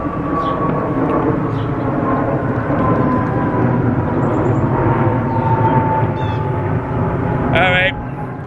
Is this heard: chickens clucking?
no